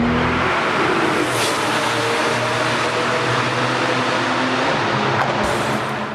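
A new Porsche 911 sports car engine roars loudly and continuously, a dense throaty drone with rising revs, close by and dominating.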